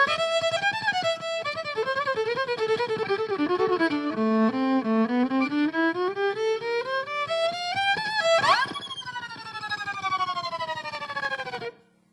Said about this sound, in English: the last way that I would use the rhythm yellow mode is when I'm playing the fiddle